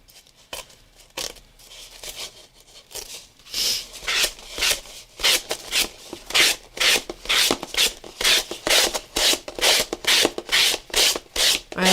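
Coarse-grit sandpaper rubs back and forth in a fast, even rhythm of loud, close scratchy strokes that start hesitantly and then settle into a steady pattern.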